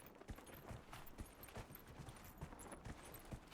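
Horse hooves clop in a quick steady rhythm during a ride in the video game Dragon Age Inquisition, soft and fairly faint with a low rumble beneath.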